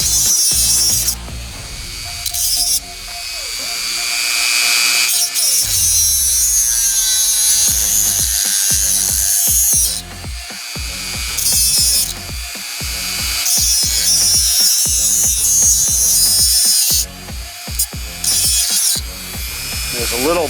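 A power tool grinds back the lip of a snap ring groove to clear a burr, running loud and continuous with a ratcheting, whirring texture and brief pauses.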